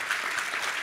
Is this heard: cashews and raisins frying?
no